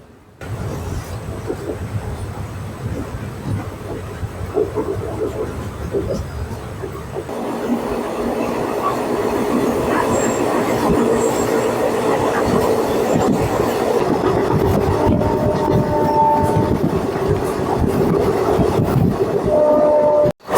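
A passenger train pulls out of Kaveri railway station on the Erode to Mettur Dam line, starting with a low rumble that swells into loud, continuous wheel and carriage noise with a rising whine close by.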